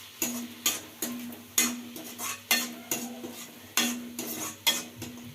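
A spoon stirs amaranth leaf curry with ginger in a pan, about a dozen sharp scraping clacks in an uneven rhythm over a faint sizzle, close up with no voices.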